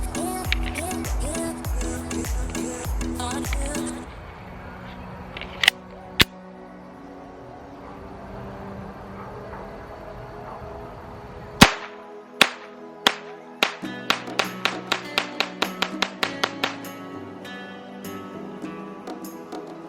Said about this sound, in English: this is going to be my last mag through the Taurus TX22